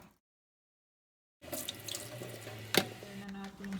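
Tap water runs steadily into a kitchen sink while boiled hotdogs are rinsed, starting abruptly after a short silence, with a brief splashy clatter partway through and a constant close rushing stream.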